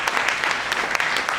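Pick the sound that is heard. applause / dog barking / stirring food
applause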